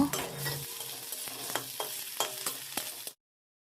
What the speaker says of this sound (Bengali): এবার আমি গ্রেট করা আদা দিয়ে দেব